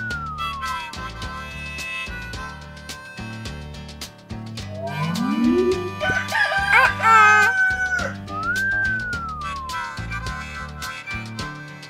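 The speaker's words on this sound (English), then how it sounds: "Rooster." A cartoon rooster crows in an animated children's learning sequence, the cry sounding over a busy, bouncy music bed with other playful effects, loud and close.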